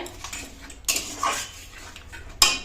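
A spoon scrapes and clinks against a pot as sour yogurt is stirred into a cauliflower rezala curry, with a few sharp metallic knocks between softer scraping strokes.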